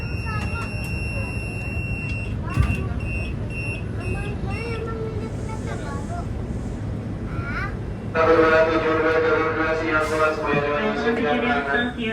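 A KAI commuter train's door-closing warning buzzer sounds as a steady electronic tone near the start, over the continuous rumble of the moving train, followed by recorded station announcements and chime-like tones.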